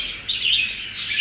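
A caged songbird chirps in bright, repeated high notes. The calls are close and clear over faint background noise, with no voices.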